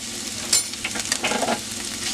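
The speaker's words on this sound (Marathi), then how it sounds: "आता आपण व्यवस्थित परतून घेऊया" Mashed potato with turmeric and salt being sautéed in a pan for bread pakora filling, a close, even sizzle with brief scraping strokes of a spatula throughout.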